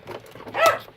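A puppy gives a single short whining yelp while being handled, a brief, close, moderately loud cry rising and fading within a second, with no talking over it.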